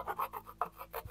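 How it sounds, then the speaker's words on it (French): Rasping scrape of a tool across the edges of photo paper for an art journal, several short rough strokes in a steady rhythm, close and moderately loud, with no talking. "Je vais gratter les bords parce que de toute façon, je préfère."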